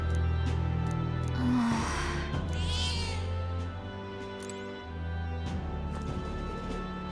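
A cat meows in the video game Metaphor: ReFantazio, with a couple of drawn-out meows early on over steady, sustained game music.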